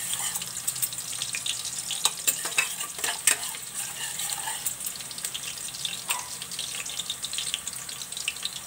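Garlic sizzles in a hot pan for adobong pata, a steady broadband crackle with scattered sharper pops and stirring clatter throughout, fairly close with no voices.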